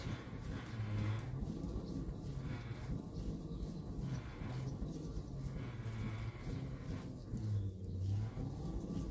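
A hoverboard motor spun slowly by bicycle pedals at 15 RPM makes a continuous low whirring drone that swells and fades in a slow, regular cycle roughly every second and a half.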